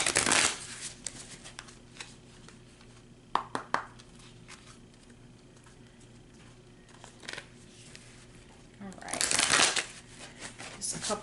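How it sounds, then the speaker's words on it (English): Tarot cards being shuffled in short rustling bursts, a strong riffle at the start and another near the end, with softer handling and faint voices between. "Couple more shuffles"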